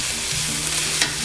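Meatballs frying in a pan give a close, steady sizzle with faint stirring sounds and one brief clink near the end; nobody speaks.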